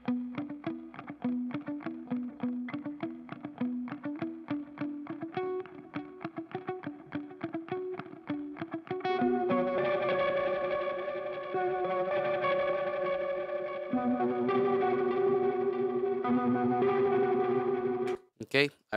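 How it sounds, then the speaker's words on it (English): An arpeggiated electric guitar with tremolo from a reggae rock mix plays a steady, rhythmic pattern of repeated picked notes. A denser, effects-laden passage follows, and the part cuts off abruptly near the end. "Here you have an arpeggiated guitar and a little bit of tremolo."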